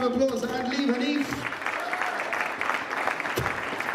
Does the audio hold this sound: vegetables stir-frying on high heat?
no